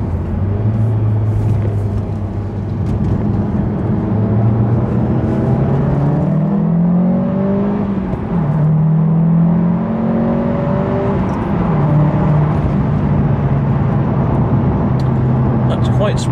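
A four-wheel-drive car of about 240 brake horsepower drives in dynamic mode, its engine droning and rising steadily through the gears, loud and close inside the cabin, with someone talking over it.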